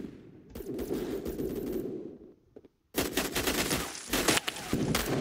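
Rapid gunfire from the video game Phantom Forces, with a Remington sniper rifle in play, roars as near continuous bursts, breaks off for a brief lull, then resumes loud and dense.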